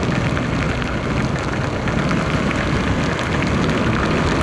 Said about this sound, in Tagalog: Ngayong walang tigil ang pagbuhos ng ulan. At ngayong araw talagang malakas yung ulan.